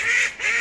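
Ducks in a garden duck enclosure with ponds and herbs: two close, loud nasal honking quacks back to back, with no talk over them.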